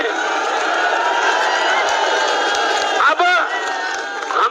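A large crowd at a speech by the Punjab Chief Minister cheers and claps loudly and continuously, with whoops and shouts rising near the end and a brief voice over the noise.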